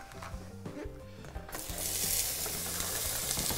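Onion frying in hot oil for a seafood sauce: a steady sizzle that grows louder and brighter midway, with soft clinks and stirring underneath.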